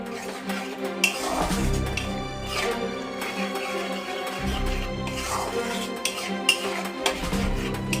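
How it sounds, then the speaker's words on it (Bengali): Spiced raw jackfruit curry with red chilli is stirred in a pan, giving soft scraping and occasional light clinks of the spoon against metal over a steady sizzling hum, close by and with no talking. "এবার এটাকে আমরা নেড়ে নেব।"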